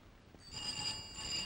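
After a brief quiet moment, a telephone begins ringing with a bright electronic trill, fairly faint and continuing to the end.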